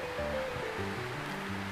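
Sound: water poured into tomato sauce pan

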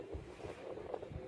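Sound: wind

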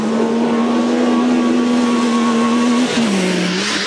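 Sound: Yamaha YXZ1000R side-by-side engine driving hard

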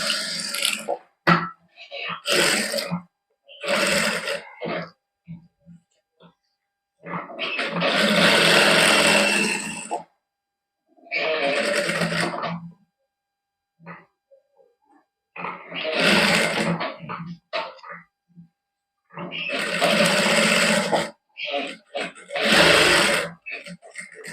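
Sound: sewing machine stitching side seams

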